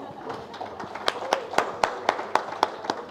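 Clapping at an engagement ceremony in Hyderabad comes as a steady, evenly spaced series of sharp claps, about four a second, over a murmur of background chatter.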